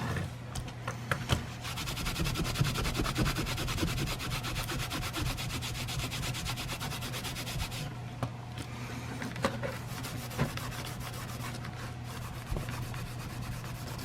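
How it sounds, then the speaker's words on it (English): Steady, continuous rubbing of a clean rag over a leather knife sheath, a dry scuffing friction sound at an even level throughout, with no talking. "Try to give it a little bit of a buff, so give a little shine to it."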